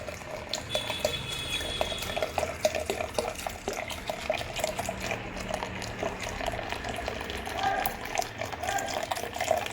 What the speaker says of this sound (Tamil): இனி நம்ம தேவையான அளவு வாட்டர் ஆட் பண்ண போகிறோம்